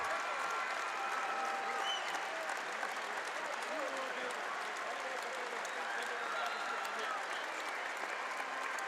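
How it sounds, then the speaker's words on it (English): An arena crowd at the Iowa 3A state wrestling finals applauds a four-time state champion, a dense, sustained roar of clapping that holds steady throughout with no letup. "the crowd here in Wells Fargo Arena has come to their feet"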